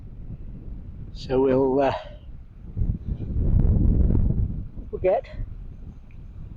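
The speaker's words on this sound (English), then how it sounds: "The wind's up a bit, but not as much as it was yesterday." Wind blowing around an outdoor castle site, a steady low rushing that swells in gusts beneath a voice speaking close by.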